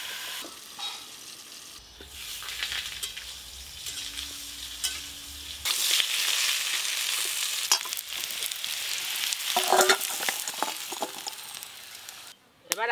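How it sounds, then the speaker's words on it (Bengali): Potatoes and green banana fry in a covered pan, a steady sizzle running throughout with occasional stirring and clinks of utensils, close and moderately loud. "কাঁচকলা আলু ভালো করে ভাজার জন্য একটু চাপা দিয়ে দেবো"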